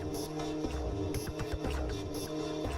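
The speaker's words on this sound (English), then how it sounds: "So we've got plenty of reverb in that one." Glitchy electronic rhythm from the GlitchScaper iOS rhythm and glitch app, drenched in heavy reverb, with repeating stuttering hits and sustained washy tails filling the mix at steady loudness.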